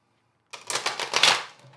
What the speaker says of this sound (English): Let me shuffle the deck a little.